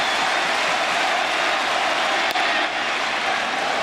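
A sellout baseball stadium crowd of about 55,000 keeps up a dense, sustained roar of applause and cheering that washes evenly across the whole stretch, with no distinct voices.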